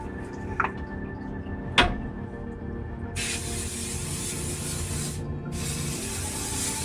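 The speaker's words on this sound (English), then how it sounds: "finish off with some hairspray" Hairspray aerosol sprayed onto a high ponytail: two sustained, close, loud hissing bursts, the first about two seconds long and the second following after a brief pause, over a quiet room background.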